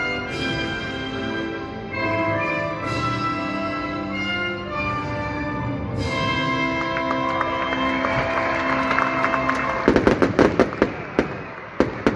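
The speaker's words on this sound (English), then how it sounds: "Fireworks are compliments of international fireworks." Fireworks bursting over a baseball stadium at a morning game, heard amid sustained musical tones and crowd ambience, with sharp cracking pops growing louder and denser toward the end.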